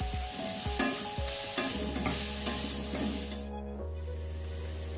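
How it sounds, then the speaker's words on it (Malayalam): Green chillies, curry leaves and onions frying in a pan while being stirred, a loud continuous sizzle and hiss with scraping stir strokes, close up, with a low steady hum underneath. "പച്ചമുളകും കറിവേപ്പില നന്നായിട്ട് മിക്സ് ചെയ്ത് കൊടുക്കാം."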